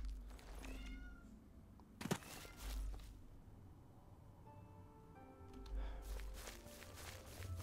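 A cat meows a few times at moderate distance, with soft footsteps and household movement around it and no speech.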